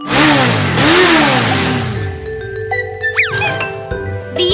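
Motorcycle engine revs up in loud rising sweeps, two strong throttle surges up close before settling into a lighter idle, with a few playful chime-like effects near the end.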